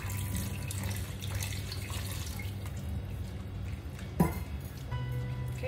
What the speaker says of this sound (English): So I'm just going to add a splash more of water.